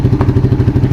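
A motorcycle exhaust fitted with a dB killer, heard on a bike at over 100,000 km, gives a loud, close, rapid pulsing engine throb with an even chugging rhythm and a brief blip of revving.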